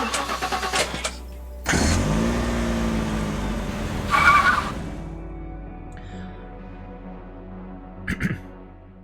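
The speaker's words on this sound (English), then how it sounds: "you're going to get in your car, and you're going to head to the first location" A car in the video game Last Stand: Aftermath starts and drives, with an engine rev rising and falling, bursts of tire noise, and short mechanical clunks, loud and close.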